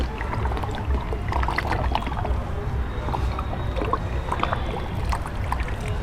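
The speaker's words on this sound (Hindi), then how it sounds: "फ़िलहाल मैं थोड़ा ही पानी डाल रहा हूँ, लेकिन इसमें बहुत सारा पानी डलेगा।" Water is poured into a tub planted with ginger. The pour makes a steady, close, sloshing gurgle that runs unbroken for several seconds with no talk over it.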